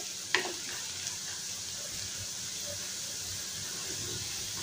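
Potatoes fry in a pan with a dense, even sizzle close by, opened by a single sharp metallic clink early on, then an unbroken hiss with no talking.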